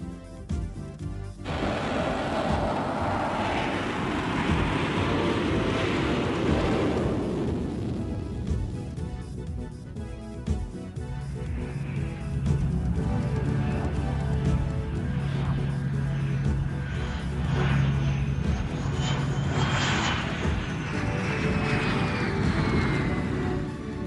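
A McDonnell Douglas F-18 Hornet test jet roars through land-based carrier-style landing and takeoff trials, a broad, sustained jet rumble heard from a distance, swelling and fading with a faint rising whine near the end.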